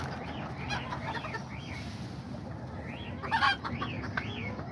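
Kikiriki bantam chickens clucking and calling repeatedly in a farmyard pen at dusk, with a few louder squawks midway, over steady low background rumble and noise.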